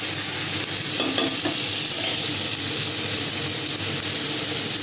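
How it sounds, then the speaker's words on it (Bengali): Vegetables frying in a pan, a loud, continuous hissing sizzle heard up close, with a few faint stirring clatters early on and no voices. "এবারে একটু ভেজে নেবো এগুলো"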